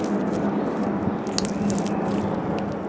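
Homemade slime is stretched and squished close up, producing soft wet crackles, small pops of air bubbles and sticky squelching over a low steady hum.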